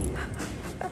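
A dog whimpers close by outdoors in snowy Canada, a short soft whine over wind and background noise.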